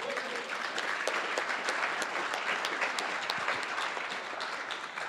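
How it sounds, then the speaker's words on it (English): An audience at a forum on Native communities and water rights applauds, a dense, even wash of many hands clapping together, heard at a moderate distance with no break for about five seconds. "How about a round of applause for Oregon?"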